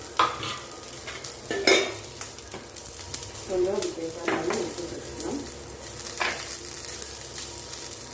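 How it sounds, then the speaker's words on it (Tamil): Chopped onion and dried red chillies sizzling in a pan, with repeated close stirring scrapes and clinks of a utensil against the pan over a constant frying hiss. "வெங்காயம் பட்ட மிளகாய் நல்லா வெங்காயம் வரைஞ்சி வரட்டும்"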